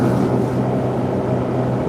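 A vehicle engine idles in snowy, cold conditions, giving a loud, steady, even rumble with no talking over it.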